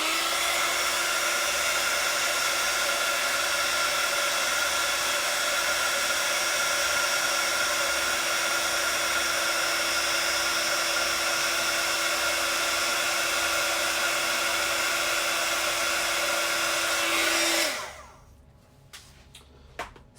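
A heat gun blows steadily and loudly for about seventeen seconds to heat-set embossing powder on a vintage-style craft piece, a constant whooshing hum, then shuts off, leaving near silence with a few small clicks.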